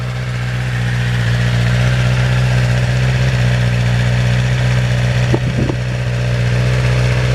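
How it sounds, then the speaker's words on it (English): A motorcycle with its standard exhaust idles steadily with a low, even burble throughout, with a couple of brief clicks or blips near the end. "That's what the standard exhaust sounds like."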